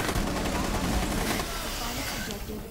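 Gunfire in the video game Rainbow Six Siege comes in a rapid, loud burst throughout the short span. The shots are close and dense, then ease slightly toward the end.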